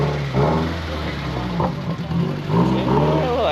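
A Subaru fitted with an axle-back exhaust revs loudly and up close, its deep engine note swelling and falling in a continuous roar across the moment.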